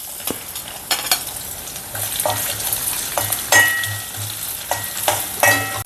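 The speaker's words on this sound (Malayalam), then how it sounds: "ഇനി തേങ്ങാക്കൊത്തും കൂടെ വറുത്ത് കോരിയെടുക്കാം" Coconut pieces fry in hot oil for a ginger curry, a close, lively sizzle broken by scraping stirs and a few metallic clinks of the spoon against the pan.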